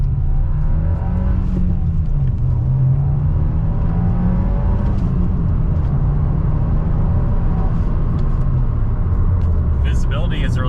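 A Subaru WRX Limited on the road, its engine droning loudly with rising and falling revs as it accelerates and shifts, accompanied by steady road and wind noise inside the cabin.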